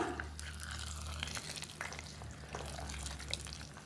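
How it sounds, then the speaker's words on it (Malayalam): Pongal is stirred in a pot with a soft, steady scraping and gentle bubbling sizzle over a low continuous hum, fairly quiet and with no talking. "ഇപ്പോൾ രണ്ട് മൂന്ന് മിനിറ്റായി നമുക്കൊന്ന് ഇളക്കി കൊടുക്കാം"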